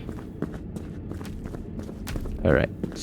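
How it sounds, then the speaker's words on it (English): Footsteps inside a warehouse in a video game, a string of soft steps under continuous ambient noise and talk, with a brief louder burst near the end. "Okay, I can hear the footsteps again."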